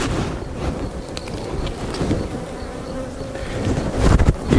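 Honey bees swarm and drone around an opened hive of undrawn frames, a dense steady buzz close to the microphone with a few nearby thumps and rustles of handling.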